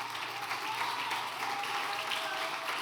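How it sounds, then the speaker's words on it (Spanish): A congregation applauds to welcome first-time visitors during a church service, steady dense clapping filling the room for the whole stretch with no pauses. "¿Qué tal si les damos un fuerte aplauso?"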